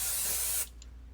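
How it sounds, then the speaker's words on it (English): Apple Brand Gardé rain repellent sprayed onto a Vachetta leather bag in a single close, loud aerosol hiss about half a second long, cutting off abruptly into quiet. "So I'm just gonna spray this side."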